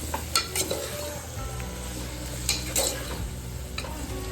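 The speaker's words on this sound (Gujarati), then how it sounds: "તેલમાં ભાજી નાખીશું" Mixed vegetables for pulao fry in hot oil with a steady, close sizzle, punctuated by a few spoon clinks and stirring scrapes against the pan, with no talk.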